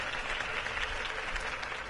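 Video game crowd applause, a dense, steady roar of many people clapping together, bright and continuous throughout with no speech.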